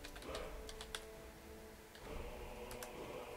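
Typing on a computer keyboard, a run of close, crisp key clicks in uneven bursts with short pauses between them, over faint room hiss.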